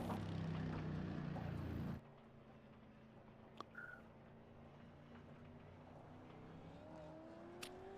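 V8 Supercars race cars in the iRacing sim at Autódromo Hermanos Rodríguez roll out of the pits, a loud engine roar for two seconds dropping to a quieter, distant droning hum.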